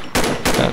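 Two sharp, loud gunshots fired in quick succession as short taps in a video game, close and dry, with no talk.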